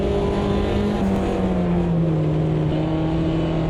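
A race car engine in the Automobilista 2 racing game, on the Guaporé circuit, holds a steady loud drone, its pitch sliding slowly lower as the car eases off, with no other sound over it.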